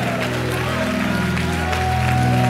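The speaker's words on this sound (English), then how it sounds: "clap your hands and shout unto God with a voice of triumph" A church congregation claps hands together in dense, steady applause that runs unbroken from start to finish, with a low murmur of voices mixed in.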